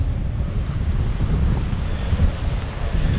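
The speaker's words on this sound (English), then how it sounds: "the wind's really blowing us bad now" Strong wind blows across a hiking trail in Wales, a loud, continuous low buffeting roar with gusty rumble on the microphone and no voices.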